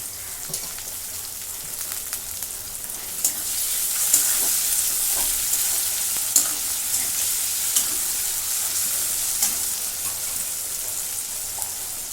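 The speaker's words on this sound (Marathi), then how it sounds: "कांदा भाजून झालेला आहे याच्यामध्ये मी टॅमॅटो टाकून देते" Chopped tomato hits onions already fried in a pan, giving a steady loud sizzle with occasional stirring scrapes and pops throughout, and no one speaking.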